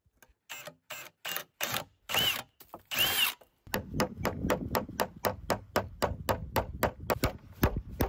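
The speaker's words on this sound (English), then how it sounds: "watch how I cut this rafter different than the other ones" A power tool cuts a rafter for a winter log cabin, starting with a few separate short bursts and then settling into a fast, steady run of repeated hits, fairly faint and with no talk.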